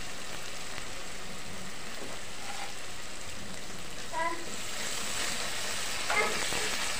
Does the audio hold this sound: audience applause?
no